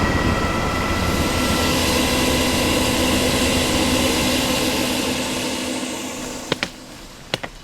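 A military helicopter fitted with machine guns flies over rural land, its engine and rotor roar loud and constant before fading slightly, followed by a few sharp knocks near the end.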